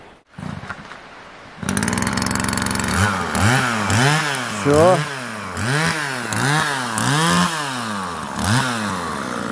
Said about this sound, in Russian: Пила в деле.